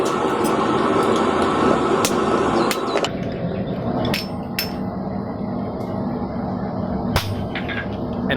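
Hammer blows driving a steel drift through the holes of hand-forged bent knee tongs, a series of sharp ringing metallic strikes at irregular intervals over a constant background hum.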